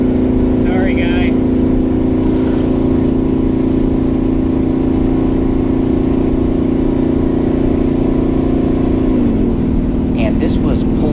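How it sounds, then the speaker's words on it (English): A truck engine climbs a hill in second gear towing a Blazer and trailer of roughly 6,000 pounds, with a loud, steady, close drone at constant pitch that drops slightly near the end, a voice talking briefly over it. "this was pulling this hill in second gear, towing the Blazer and the trailer"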